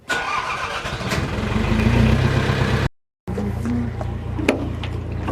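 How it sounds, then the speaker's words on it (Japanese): A fishing boat's engine in a harbour cranks and catches, running loud and steady, cuts out for a moment, then settles back into a rumbling idle. "でエンジンかけて"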